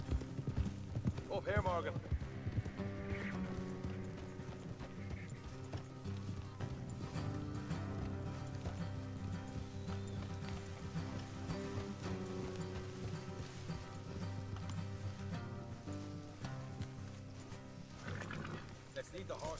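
Horses' hooves clip-clop steadily in Red Dead Redemption 2, a continuous rhythmic trot under a soundtrack score, with a brief spoken line from a character near the start.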